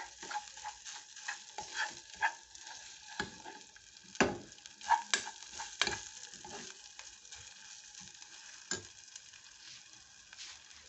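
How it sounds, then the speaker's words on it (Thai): Curry paste being stir-fried in a pan for Thai beef panang, with continuous sizzling and frying hiss punctuated by scraping stirs and irregular clacks of a utensil against the pan, close and moderately loud, with no talking. "ผัดพริกแกงให้หอมค่ะ"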